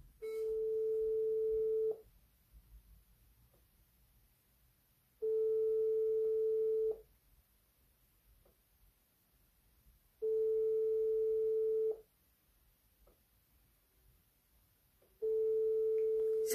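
Repeating telephone ringback tone on an unanswered call: four steady, even beeps of about two seconds each, separated by roughly three-second silences, clear and alone with no voices.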